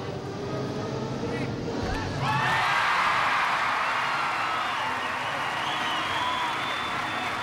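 An arena crowd at a women's gymnastics championship bursts into loud applause and cheering after a routine's dismount, swelling partway through and holding steady as a commentator talks over it.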